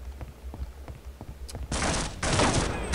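In Half-Life: Opposing Force, a few single gunshots crack out before two sustained bursts of rapid automatic fire, loud and close, with no talking over them.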